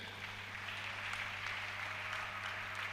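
Congregational applause fills a church during a sermon: a steady, dense wash of clapping that holds at an even level throughout, with a low hum beneath it.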